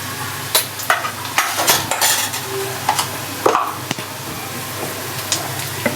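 Turmeric and coriander powder stirred into browned onions in a pan for matar paneer, giving a soft sizzle under scraping spoon strokes and clinks of utensil on metal, close and steady.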